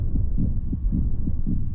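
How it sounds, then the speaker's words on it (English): A steady heartbeat thumps in low, muffled double pulses, about four beats in under two seconds, close and even under a faint hum with no talking. "I hear a heartbeat."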